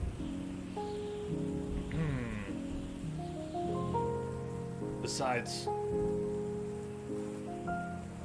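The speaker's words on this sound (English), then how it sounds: "I love the sound of rain." Steady rain patters on a surface beneath tonal game music in The Red Strings Club, while a voice briefly speaks over it.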